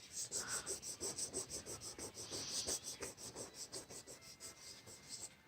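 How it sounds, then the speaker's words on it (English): A plastic nail-art stamping plate being rubbed clean with acetone mixed with polish remover, a rapid rhythmic back-and-forth scrubbing of about four strokes per second, close and quiet, with no one speaking. "So now I'm going to actually take some, I have acetone mixed with a remover here."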